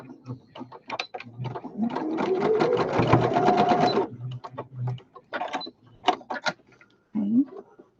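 A sewing machine stitches a handle onto a homemade fabric weight in a loud, steady run of rapid needle clatter lasting about two seconds, framed by shorter bursts and clicks of the mechanism.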